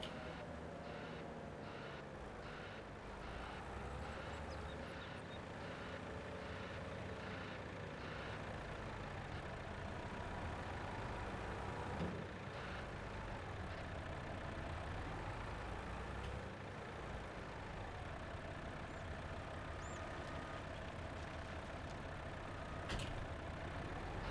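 Mack truck air brakes hiss in a logging video game while the heavy rig hauls gravel, set against a steady engine drone that runs the whole time with no talking.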